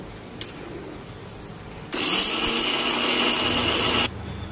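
A kitchen grinder blends green chilli, roasted chana dal and peanuts into a paste for idli chutney, a loud whirring roar that starts abruptly, runs steadily for about two seconds and then cuts off.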